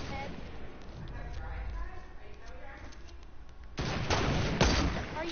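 Heavy sniper rifle shots in a video game sniper battle restricted to bolt-action and heavy snipers, with a couple of loud sharp reports near the end over a steady background.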